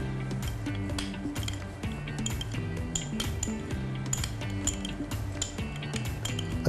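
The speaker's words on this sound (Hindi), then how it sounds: "अच्छी तरह से इसको मिक्स करना है।" Green chutney, hoisin sauce and tamarind being stirred together in a bowl for chicken alishan tikka, a rapid series of close, bright spoon clinks against the dish with no talk.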